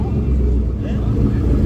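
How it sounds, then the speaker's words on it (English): A Roush Mustang's engine rumbles close by at a street race, a steady low growl running under loud nearby talk. "Here come a little Roush Mustang."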